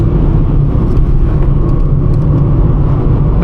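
A slow car's engine drones steadily while driving along a windy country lane, a loud, constant low rumble of road and motor with no voices.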